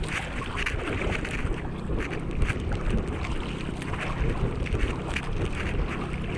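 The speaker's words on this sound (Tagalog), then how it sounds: "Malaki pa rin ang mga alon mga idol." Big sea waves wash and churn around a small fishing boat on rough water, a dense, continuous roar of water mixed with wind buffeting the microphone, loud and close throughout with no talking.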